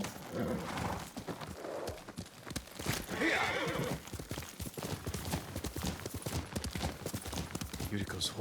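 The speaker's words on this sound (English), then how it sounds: "Yuriko's horse. She can't be far." A horse whinnies amid clattering hooves in the video game Ghost of Tsushima, with busy overlapping clip-clops and scuffling throughout, fairly close, while voices talk over it.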